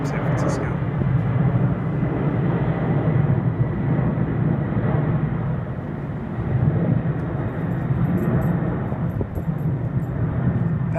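A China Airlines Cargo Boeing 747-400F takes off from San Francisco airport, its engines a loud, steady low roar that holds throughout, with faint rustle in the background.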